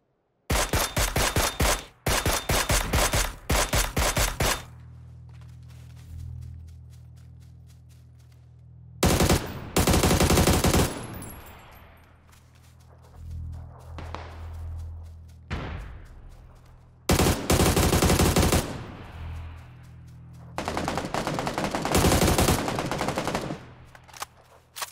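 Loud bursts of rapid automatic gunfire in the PUBG shooter game, several long sustained volleys separated by short pauses, with single sharp shots and echoing tails between them.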